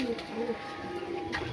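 Pigeons cooing in a loft while they nest on eggs, soft repeated low coos close by, with light rustling and faint voices in the background.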